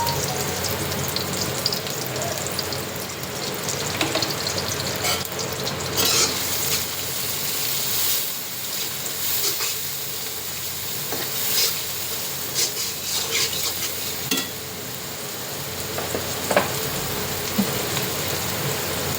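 Onions and green chilies frying in a pan for a ridge gourd and prawn curry, a steady close sizzle with scraping and stirring throughout, no talk.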